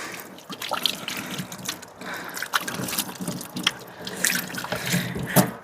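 Tap water runs steadily into a small sink in a converted camper van, splashing and trickling over hands being washed, close and continuous with no talking.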